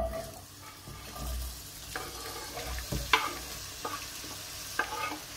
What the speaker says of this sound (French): Voilà, donc on a fait chauffer l'huile. Allez, on va faire plonger les oignons.